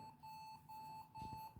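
Computer BIOS beeping at boot while the administrator and power-on password prompt is showing: a steady series of short, clear electronic beeps repeating at an even rhythm over faint background hum.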